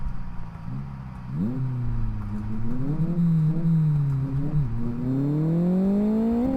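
Car engine in the racing game Live for Speed, climbing toward 8000 rpm, revving loud and close with a steady droning whine that rises and dips through gear changes before surging higher, no talk over it.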